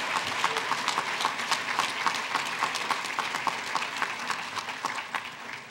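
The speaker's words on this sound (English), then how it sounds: "How about another round of applause for our graduates?" A graduation ceremony audience claps for the class of 2013, a steady wash of applause with some sharp individual claps standing out close by.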